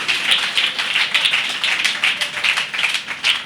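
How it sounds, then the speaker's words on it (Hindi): A church congregation claps hands together in a steady, rhythmic beat, loud and close, with many hands striking in unison and no speech over the clapping. "ताली बजाकर धन्यवाद यीशु बोलिए।"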